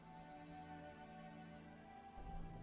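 Steady rain pattering on a surface fills the background of a tabletop role-playing game scene, a continuous even wash of drops with a slightly louder low rumble near the end.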